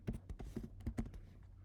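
Faint, quick clicks of a computer keyboard as Python code is typed, a short burst of several uneven taps close by.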